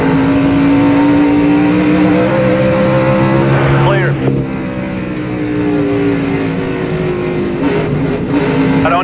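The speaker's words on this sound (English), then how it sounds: "His acceleration going straight away to 120 miles per hour or so." A stock car engine at the Bristol race in the 1998 Goody's Headache Powder 500 is loud and close, its pitch climbing steadily under acceleration, dropping sharply around a gear change, then climbing again, with a commentator talking over it.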